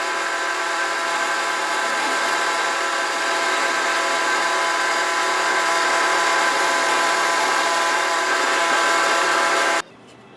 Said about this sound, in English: that'll be a perfect hole for me to be able to guide my drill bit into so I can drill down through